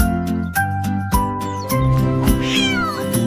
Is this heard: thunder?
no